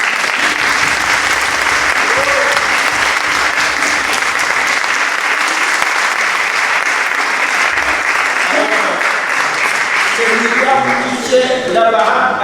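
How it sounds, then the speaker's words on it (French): A church congregation gives the youth choir team loud, sustained applause during Mass at Saint Joseph church, a dense wash of clapping that thins out near the end as voices and a few notes come through. "vous pouvez applaudir l'équipe de jeunes"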